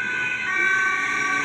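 A tall police car's siren wails loudly and steadily, close by, with a constant high tone over low road rumble and no voices.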